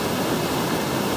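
Pongour Falls in the Central Vietnam Highlands pours down as a dense, even roar of rushing water, steady and close with no breaks.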